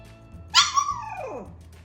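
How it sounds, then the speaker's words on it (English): A puppy gives a single high-pitched yelp or whine that falls away quickly, close by, with quiet background otherwise. "No barking."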